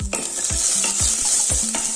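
Cumin seeds sizzle in hot ghee on a low flame after mustard seeds have popped, a bright steady crackle with a spoon stirring the pan in regular rhythmic strokes, close up and with no talk.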